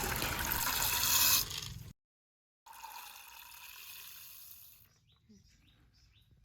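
Water is poured over two cups of chana dal to soak it for a masala vada batter: a steady, close splashing pour that cuts off briefly, then a quieter rushing flow that fades away, with no talking.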